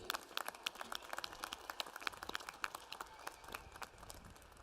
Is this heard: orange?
no